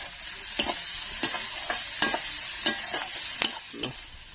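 Onions sizzling with a little salt in a hot pan, with a spoon scraping and stirring in regular strokes about every half second; no voices.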